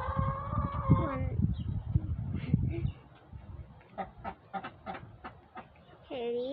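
Young ducklings quack and peep in short bursts near the microphone, interspersed with a person's voice speaking over them.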